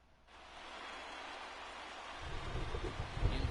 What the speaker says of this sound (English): The rain starting to intensify here.